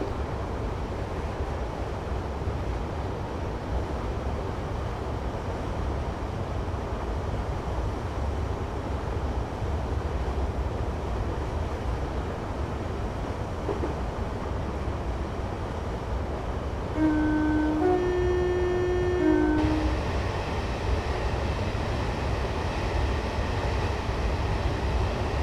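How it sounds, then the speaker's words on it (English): A train coasts with its power shut off in Train Simulator 2015 on the Severn Beach to Bristol Temple Meads route. A steady low rumble and rail noise carry on throughout, with a brief series of soft tones near the end. "I'm once again going to shut off power and allow the train to coast"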